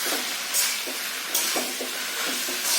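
Potatoes and ground spice paste frying and being stirred in a pan: steady sizzling hiss with periodic scraping strokes of a spoon, close and moderately loud, no talking.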